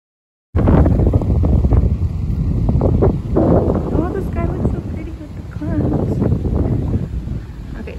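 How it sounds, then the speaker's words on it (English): Strong wind blowing outdoors, buffeting the microphone in a constant heavy rumble from start to finish, with a voice talking faintly underneath. "Ugh, this wind."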